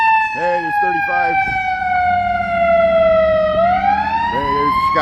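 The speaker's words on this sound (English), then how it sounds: "there's the Chicago Fire Department ambulance there" Wailing siren of a Chicago Fire Department ambulance passing on a city street at noon, a loud sustained tone sliding slowly down then rising, with short yelp bursts at the start and end over steady traffic rumble.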